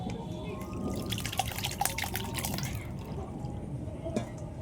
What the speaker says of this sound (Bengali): এই জলটা আমি ছেঁকে বের করে নেবো একটা ছাঁকনি দিয়ে।